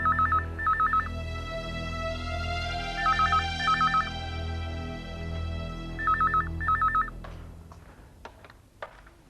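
A telephone rings in an indoor drama scene, three close, loud bursts of warbling electronic double rings spaced evenly over a low musical background, followed by a few faint clicks and no talk.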